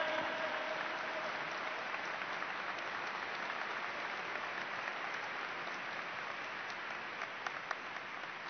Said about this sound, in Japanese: 皆様温かい拍手をお送りください。